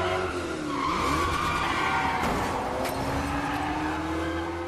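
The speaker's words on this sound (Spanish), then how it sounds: "la persecución en carro de Jack Reacher" A car skids through a chase scene in the Jack Reacher film, tires squealing loudly over a roaring engine, with a sharp sweep of screeching in the middle of a continuous, close-up burst.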